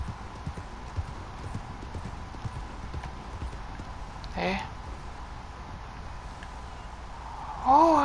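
Horse hooves clip-clop in the game Red Dead Redemption 2, a faint rhythmic plodding under quiet background, with a brief whinny-like burst midway and a louder tonal call at the end.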